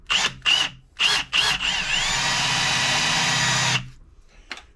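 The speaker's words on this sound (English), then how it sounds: "I'm just going to drill one close to the end of this, eyeballed center" A power drill bores a bolt hole near the end of a part while fitting power steering to a 2006 Polaris Ranger 700XP: four short loud bursts, then a steady whining run of a couple of seconds that stops abruptly.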